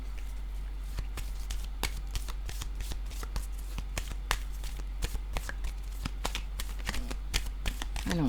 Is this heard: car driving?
no